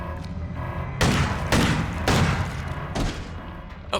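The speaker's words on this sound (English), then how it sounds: "Grenade. Enjoy." Heavy booming blasts in the Crow Country video game, a grenade explosion among several loud thuds spaced about half a second to a second apart, each with a rumbling tail.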